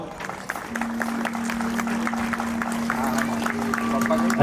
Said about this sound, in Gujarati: બધાએ બે તાળીઓથી એમને વધાવો.